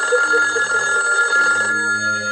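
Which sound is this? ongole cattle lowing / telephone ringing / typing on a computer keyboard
telephone ringing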